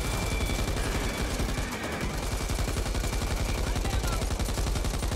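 Dense, continuous automatic gunfire from the video game Back 4 Blood, loud and steady throughout as rapid shots pile together in a heavy barrage.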